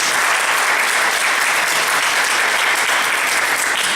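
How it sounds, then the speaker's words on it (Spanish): Thick, continuous applause from a church congregation during an evangelical workers' study session, a dense, uniform wash of clapping that stays loud from start to finish. "Un aplauso a la esposa, al pastor."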